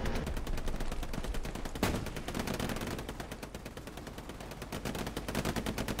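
Dense, sustained gunfire in the WWII shooter game Hell Let Loose, with rapid overlapping shots and bursts that sound like machine-gun fire aimed at the player. The shooting runs loud and continuous throughout, with one sharper crack partway through.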